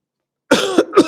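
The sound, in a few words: coughing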